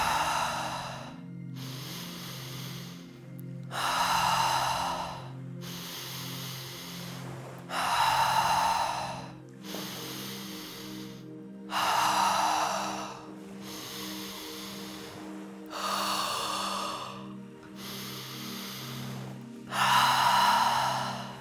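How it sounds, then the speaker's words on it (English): Deep, slow breathing during a guided breathwork exercise, with nine or ten long, loud inhales and exhales in a steady rhythm over soft background music. "Take a deep breath,"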